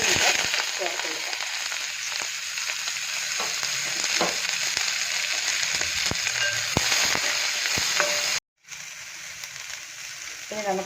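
Mustard seeds with chopped shallots, green chilli and ginger sizzle in hot oil for a dried fish and bitter gourd thoran, a dense close crackle with spitting pops and stirring scrapes, interrupted by a brief gap.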